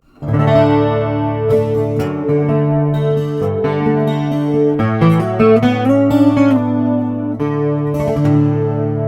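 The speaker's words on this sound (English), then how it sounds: "That would be a fairly strong chorus sound" A guitar played through an L.R. Baggs Align Series chorus pedal turned all the way up, the notes shimmering and wavering in pitch with a thick, swirling modulation throughout.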